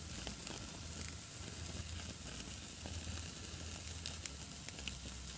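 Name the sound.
steaks sizzling in a pan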